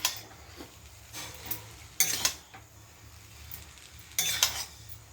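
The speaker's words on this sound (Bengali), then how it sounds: "চাউমিনের মশলাটা দিয়ে দেবো, ভালো করে নেড়ে নিই" Chowmein being stirred with masala in a pan, a spatula scraping and clinking against the metal in a few sharp bursts over a low steady sizzle.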